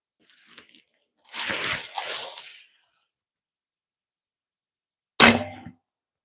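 An arrow strikes an outdoor archery target on a snowy day with one sharp, loud knock, after a quieter stretch of rustling handling noise.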